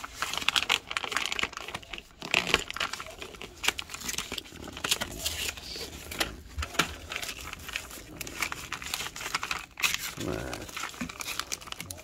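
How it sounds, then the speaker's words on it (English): Plastic packaging bags holding TRX4M RC truck parts are torn and crinkled open with busy, close crackling and rustling, while a voice talks intermittently over it. "let's just open them up. Let's just rip them open."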